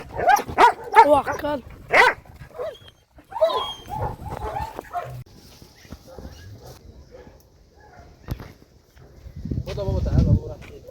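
A dog barks and whimpers in short, uneven bursts close by, mixed with someone talking, then a louder rough scuffle of noise at the end.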